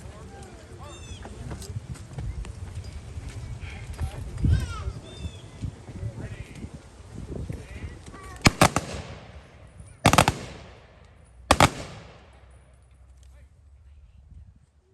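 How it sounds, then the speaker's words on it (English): Rifle volleys of a 21-gun salute by an American Legion post at a Veterans Day ceremony ring out as three loud, sharp cracks spaced over several seconds, echoing after crowd murmur and outdoor bustle. "Now if we could have the 21 gun salute from American Legion Post 15,"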